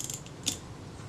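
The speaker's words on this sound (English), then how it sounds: "I can probably rotate the film advance, roll the sprocket shaft with my thumb" A Kodak Retina II type 011 film camera's film advance and sprocket shaft are turned by thumb, giving a faint ratcheting, clicking whir with one brief sharper click midway, close and quiet.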